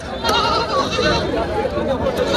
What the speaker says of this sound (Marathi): चला समोर बघूयात आपण मेंढ्या पण आलेल्या आहेत